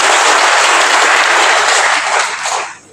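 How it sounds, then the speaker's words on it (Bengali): An audience at the Hajong community's traditional Deuli festival in 2024 applauds, a loud, dense wash of many hands clapping together that holds steady and then tapers off at the end. "তাকে শুভেচ্ছা জানাই করতালির মাধ্যমে।"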